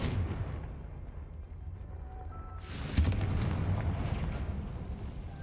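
A Confringo fire spell explodes in the Hogwarts Legacy video game, a sudden blast at about three seconds followed by a rumbling tail over a steady low background rumble.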